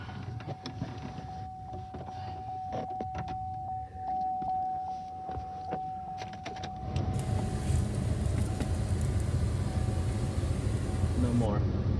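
Air blowing from the defrost vent of a Chevy Silverado with the fan turned all the way up, a steady rushing hiss that grows louder partway through, with clicks and a faint tone early on.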